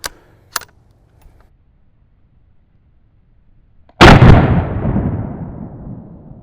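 A single loud, close .22 Magnum rifle shot fired into ballistic gel outdoors, a sharp blast followed by a long echoing decay, preceded by a couple of faint clicks.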